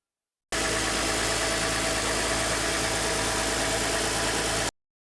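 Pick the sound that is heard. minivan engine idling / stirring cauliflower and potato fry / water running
minivan engine idling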